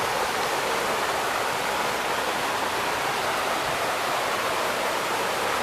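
Constant rushing of a stream's flowing water in Jamaica, a dense, even hiss heard up close with no breaks and no voices.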